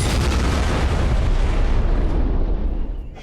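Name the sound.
cannon fire after command to fire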